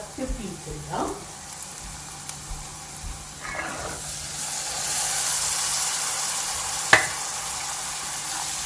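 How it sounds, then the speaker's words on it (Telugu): Aloo lukhmi pieces fry in hot oil with a soft, steady sizzle and hiss that grows slightly as pieces go in, with faint clinks and muffled voices in the background. "ఫ్యూ సెకండ్స్ ఫ్రై అయినాక మనం ఇప్పుడు ఫస్ట్ పీస్ వేద్దాం."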